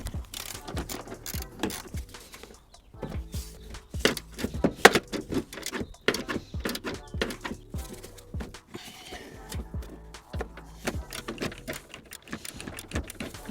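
Bolts on a Honda Civic mk8 front strut are undone, likely with a ratchet or power tool, giving rapid, irregular clicking and metallic rattles close up, without speech.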